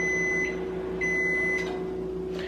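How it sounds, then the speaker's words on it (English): A microwave oven beeps about once a second over a steady appliance hum, close by. "that's the microwave"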